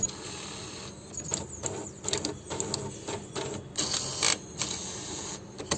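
A Brother MFC-430W inkjet printer running after a repair for a paper-jam error, its mechanism clicking and whirring in a busy run of irregular mechanical ticks and short motor bursts, close and moderately loud.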